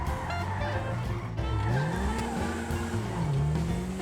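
A Toyota Trueno AE-86 in GTA V, pushed to top speed on an airport runway, gives a steady, loud engine drone with a rising and falling pitch as it shifts, plus a brief tire squeal, with no talking.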